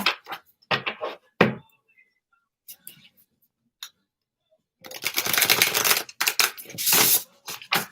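A brand-new deck of playing cards is shuffled: a few sharp taps and card slides come first, then a dense, close riffling burst lasting a couple of seconds.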